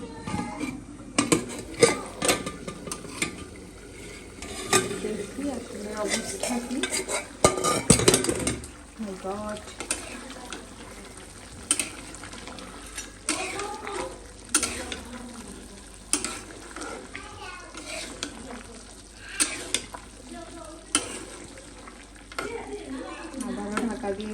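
Meat cooks in a pot with a soft ongoing sizzle, punctuated by repeated spoon scrapes and clanks against the metal, one louder knock midway, with occasional quiet voices in the background.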